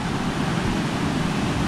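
Keezhanthoor waterfall near Kanthalloor in Munnar sends water pouring down in a steady, close, broadband roar, with no voices over the constant rush.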